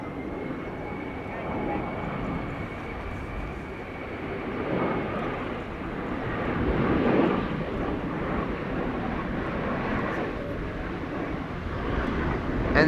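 A jet aircraft arrives at Schiphol Airport, its engine roar a broad, steady rumble that swells slightly in the middle and holds at moderate distance, with wind buffeting the microphone throughout.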